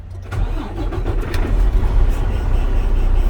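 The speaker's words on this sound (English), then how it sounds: "so now I turn my vehicle on" A 2015 Freightliner truck engine cranks and catches, then settles into a loud, deep diesel idle with a slight rise in revs, close up and alone with no talk.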